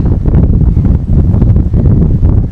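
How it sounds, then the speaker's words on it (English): Cold wind blowing outdoors at Canons Ashby, a loud, steady roar buffeting the microphone without a break. "that wind is biting cold"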